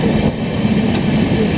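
The Rajdhani Express overtaking the Bhubaneswar Rajdhani train, heard as a loud, steady rail rumble with rhythmic wheel clatter close by.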